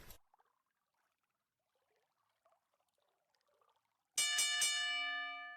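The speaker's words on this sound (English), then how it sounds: "there's the bell" A wrestling ring bell is struck several times in quick succession, loud ringing strikes that leave a long metallic decay, after a quiet stretch of faint background sounds.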